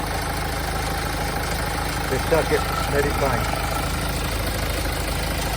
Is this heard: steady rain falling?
no